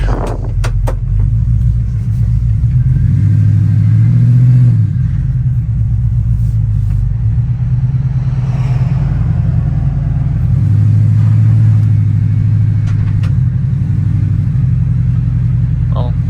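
A 1997 Ford Expedition with a swapped Coyote V8 engine rumbles steadily as it drives down a street, a deep continuous drone with occasional swells, with a voice heard over it at times.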